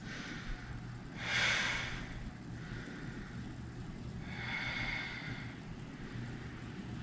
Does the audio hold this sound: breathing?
yes